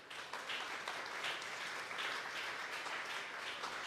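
Steady applause from a church congregation at a Sunday service, dense and sustained clapping filling the whole moment at moderate distance, with no talk over it.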